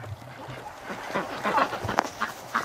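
Ducks quacking as they come out toward a garden hose, several short nasal calls rising in the second half, close by, with a person speaking softly.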